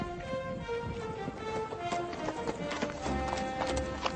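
Horse hooves clip-clop in No More Heroes 2, a quick, steady run of close, crisp hoofbeats over game background sound, carrying on through the whole stretch.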